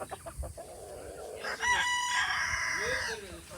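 Chickens at a farm during a heat wave, with a rooster crowing loudly and hens clucking in a near, continuous jumble of calls, brief footsteps and shuffling at the start.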